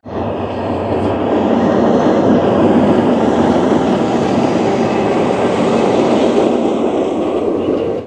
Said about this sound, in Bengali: এই সেই সোনার হরিণ মোজাম্বিকের ট্রেন অবশেষে আসলো